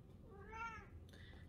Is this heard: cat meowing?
yes